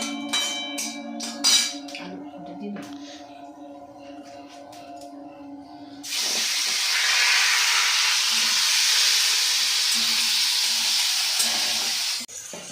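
Spice paste for aloo dum dropped into hot oil over whole garam masala and cumin: after quieter kitchen sounds, a loud, abrupt sizzle bursts in and hisses steadily for about six seconds before cutting off.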